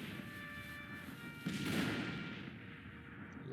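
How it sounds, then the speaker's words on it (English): Artillery opening up in the Civil War strategy game Grand Tactician, with a dense rumbling barrage of booming shots swelling in the middle and fading into a sustained broad roar. "All of a sudden, our artillery is opening up very quickly."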